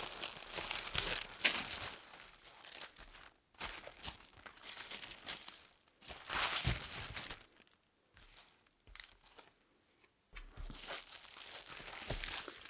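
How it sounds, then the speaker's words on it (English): Sticker Guru stationery box being unboxed: tissue paper crinkles and rustles as it is unwrapped, close and fairly quiet, in several bursts separated by short pauses. "It's in this nice tissue paper."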